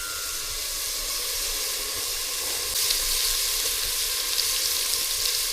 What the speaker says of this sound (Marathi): आता मग फोडणी भाजल्यावरती या ठिकाणी मसाले टाकायचे.